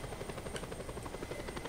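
A helicopter in the Just Cause 2 video game drones steadily nearby, its rotor chopping in a fast, even pulse with no break and no speech.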